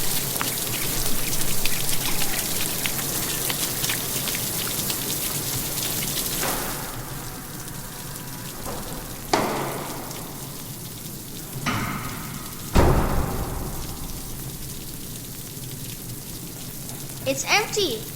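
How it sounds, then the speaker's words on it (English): Rain pattering steadily on surfaces outdoors near a bayou, a dense close hiss of raindrops that thins after the first few seconds, with a few sharper drips and knocks later and no talk. "It's raining."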